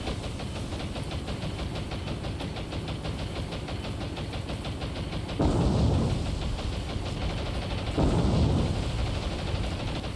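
Torpedo hits explode twice in a naval warfare video game, two deep booming bursts a few seconds apart over a constant droning engine and battle rumble.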